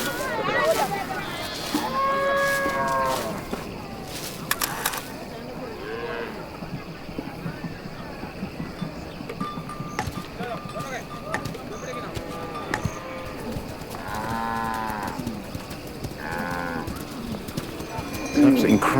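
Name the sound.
Mundari cattle lowing, returning to camp at dusk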